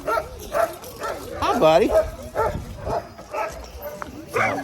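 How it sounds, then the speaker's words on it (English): Many sled dogs at a kennel in Alaska bark, yip and howl in repeated bursts, some close and loud, with a person's voice briefly speaking among them. "So you can see there's dogs everywhere."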